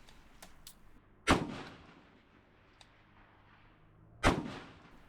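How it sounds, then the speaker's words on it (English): Two sharp AR-15 rifle shots crack out about three seconds apart on an outdoor range, each a loud close report with a short rolling echo, a faint distant pop between them, no talking. "you can see me getting behind the rifle and situating up for 3 well-aimed shots here"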